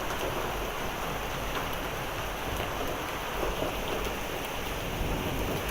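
Heavy rain pours steadily during a severe thunderstorm with hail, a dense, unbroken roar of water close by with faint scattered hits and no voices.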